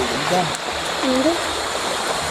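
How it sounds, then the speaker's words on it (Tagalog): A shallow river with a swimming spot flows steadily, a continuous rushing wash of water heard close by, while people talk briefly over it. "Ilog na yan. Pwede na yung liguan."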